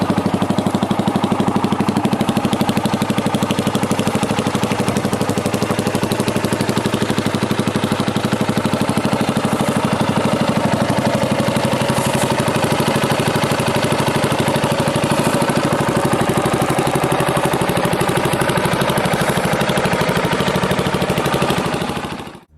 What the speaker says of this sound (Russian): одноцилиндровый четырехтактный двигатель объемом 499 кубических сантиметров